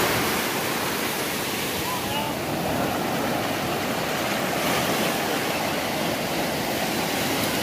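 Surf rolls in steadily at Prumirim beach in Ubatuba, a constant, close, full wash of breaking waves with no pause and no clear voices over it.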